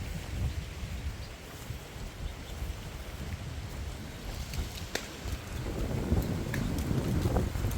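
Wind before a rainstorm in a rural cattle area of Thailand, gusting steadily and buffeting the microphone, with rushing noise swelling louder toward the end and a few faint clicks.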